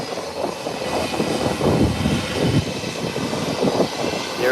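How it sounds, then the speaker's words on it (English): A JetBlue Airbus A321 taxis off the runway toward the gates, its jet engines giving a loud, continuous rumbling whine that swells and wavers close by, with no voices over it. "Airbus 321, large aircraft, coming in from Boston"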